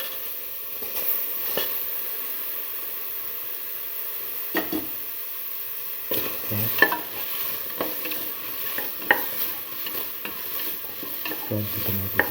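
Tomato pieces fry in a pan under a soft, steady sizzle, while a utensil stirs and scrapes with irregular knocks and taps that come more often toward the end.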